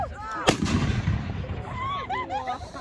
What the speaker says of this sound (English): 500 gram cake by Raccoon Fireworks. This has 10 shots. Performance is gold strobing mines to gold strobing.